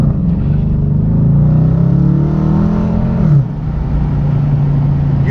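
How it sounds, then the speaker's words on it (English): A Dodge Challenger Hemi V8 engine revs up loud and close, its throaty roar rising in pitch, then drops back to a steady rumbling idle. "You want to hear that V8 engine making some noise out here on the streets."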